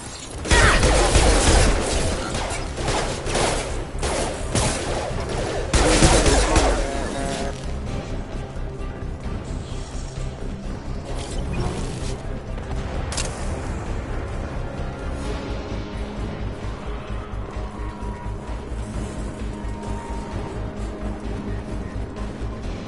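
Gunfire in the sci-fi shooter Mass Effect 2: loud, sharp bursts of shots crowd the opening seconds, then fade into a lower mechanical clatter and hum.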